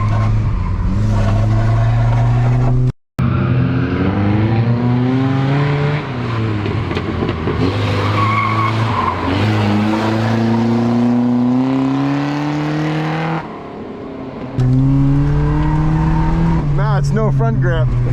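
A 100hp car with an automatic transmission drifting, its engine droning and revving loudly with rising and falling pitch, sustained throughout with a brief cut-out; people talk over the engine noise.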